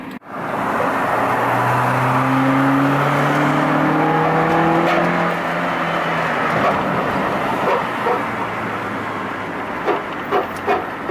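A Nissan R33 Skyline driving with loud road rumble and a whining, scraping tire rub that rises and falls, then fades into lighter knocks and clunks.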